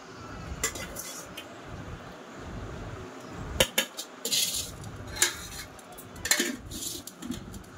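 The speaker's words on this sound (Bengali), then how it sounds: "আমি বেড়ে নিচ্ছি, আর একলা কি বসতাম, আমার ভাত বেড়ে নিচ্ছি।" Plates and metal serving utensils clink and knock sporadically while rice is served onto a plate, scattered sharp clatters over quiet room background.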